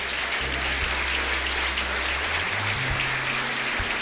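A church congregation at a Sunday worship service applauds steadily for about four seconds, a dense wash of clapping with low musical tones sustained underneath.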